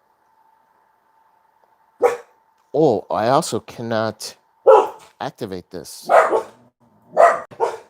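Dogs bark in the background during a board game session, a few short barks mixed in with someone talking about his moves.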